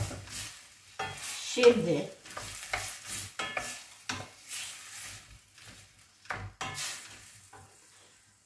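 Zucchini and rice sautéing in a pan with a little water, stirred with a spoon that scrapes and clinks through soft sizzling; a voice talks briefly at the start.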